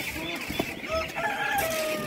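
Chickens cluck and a rooster crows at a livestock market in Ivano-Frankivsk, several birds close by in a short noisy burst with faint voices in the background.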